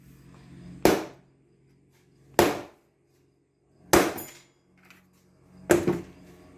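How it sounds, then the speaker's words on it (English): Four sharp metallic hammer taps on a Canadian two-dollar coin ring out alone, spaced about a second and a half apart, each with a short bright decay. "just a slight little whack from the hammer is going to put that in place."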